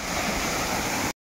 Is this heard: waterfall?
yes